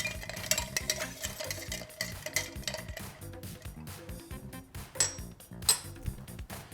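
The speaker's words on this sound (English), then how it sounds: "this is a nice stirred cocktail." A stirred cocktail with a dash or two of orange bitters being mixed, with bar spoon and ice clinking and rattling in a glass in close, irregular bursts and no talking.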